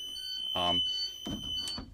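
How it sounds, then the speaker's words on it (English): Two short electronic chirps from a school bus roof hatch alarm as the handle is turned, clear and close inside the bus, with a faint steady tone underneath. "when you turn the handle, the audible alarm sounds, which it does"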